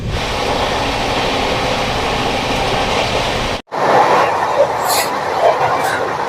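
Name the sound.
Howrah Amritsar Mail train arriving at Bardhaman Junction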